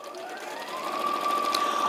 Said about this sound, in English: So there's just one more strip to sew, and then we're done there.